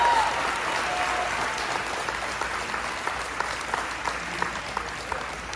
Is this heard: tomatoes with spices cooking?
no